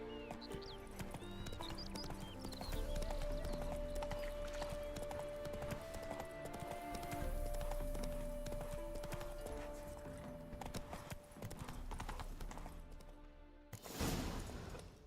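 Roach, the horse in The Witcher 3, galloping with steady rhythmic hoofbeats under a dense orchestral game score, followed by a brief whinny and a sharp burst of noise near the end.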